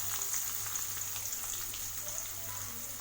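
Chopped onions hit hot oil in a pan while making egg drop curry, giving a faint, steady sizzle and crackle with no talking.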